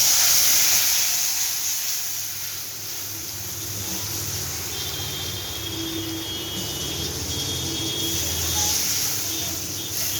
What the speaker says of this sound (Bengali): তাতে জল দিলাম।